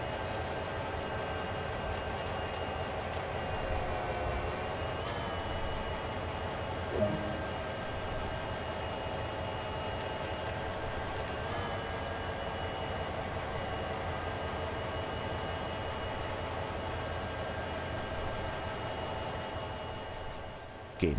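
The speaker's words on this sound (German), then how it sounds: "Hier ist die dynamische Bremse." CSX heavy-haul freight locomotive's dynamic brake in Train Sim World: a steady, droning electric whine layered over low engine rumble, held continuously at an even level with no talking.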